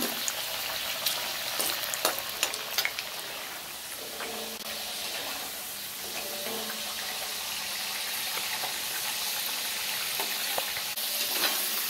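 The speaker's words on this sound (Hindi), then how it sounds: "हमको आलूओं को पिंक होने तक फ्राई करना है" Potatoes frying in oil in a home kitchen until pink sizzle softly and steadily, with occasional clinks and stirring scrapes of a utensil against the pan.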